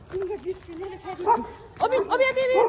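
A dog yips and whines near a theme park at Tokyo DisneySea, with short, high barks and whimpers, close and lively, mixed with people talking.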